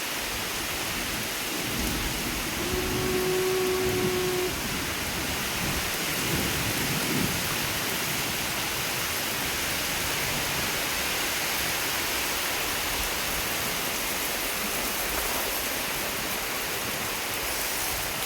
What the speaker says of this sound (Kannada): ಮಳೆ ಎಷ್ಟು ಜೋರಾಗಿ ಬರ್ತಾ ಇದೆ ಅಂತಂದರೆ, ಮರಗಳು ಗಾಳಿಗೆ ನೋಡಿ